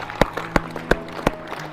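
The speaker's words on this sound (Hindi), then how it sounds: "और सबसे जो बेस्ट ताली है जो बजाते हैं" Sharp hand claps at a school motivation session, five distinct claps spaced about a third of a second apart, close and fairly loud over faint background hum, with no talk in between.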